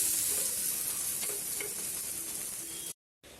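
An urad dal omelette fries in an oiled pan with a steady close sizzle and crackle, holding for about three seconds before a brief dropout and a return.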